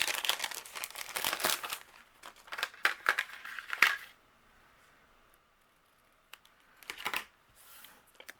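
Fussy cutting paper images for an Easter shaker card: close, quiet snips and paper crinkles in a quick cluster over the first four seconds, a pause of near silence, then a few more rustles.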